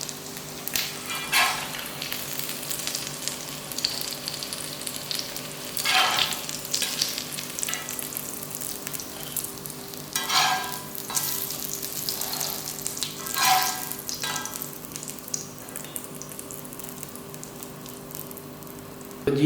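Beef qeema tikki kebabs fry in a pan with a steady low sizzle, joined every few seconds by louder bursts of scraping and spattering as they are turned or lifted, close and without speech.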